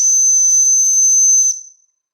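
A steam whistle on a Jensen Model 75 toy steam engine blows one steady, loud, shrill hissing tone for about a second and a half, then cuts off and fades into silence.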